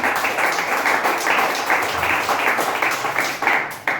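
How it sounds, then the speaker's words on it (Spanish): A church congregation at a Pentecostal service claps in a loud, dense, continuous burst of applause lasting several seconds, with faint voices mixed in. "Denle fuerte ese aplauso, porque es para nuestro Dios"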